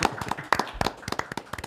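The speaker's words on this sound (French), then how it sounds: "On les applaudit." A small audience claps for the three-member rap group LaF, giving a short burst of sharp, uneven hand claps close by, with no voices over it.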